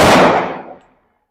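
A single sharp pistol shot from an M&P9 Shield Plus at a shooting range, loud and close, with a short decaying tail that fades out within a second.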